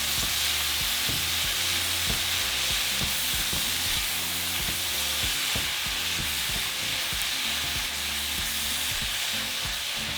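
A seasoned mix of peppers and cheese, with optional corn, frying in a pan: a steady, close sizzle with frequent scraping and stirring clatter running throughout, no voices.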